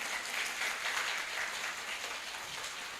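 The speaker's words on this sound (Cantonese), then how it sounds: "真係俾啲掌聲我先啦" Audience at a primary school variety show applauding, a steady dense wash of clapping that holds evenly throughout without a break.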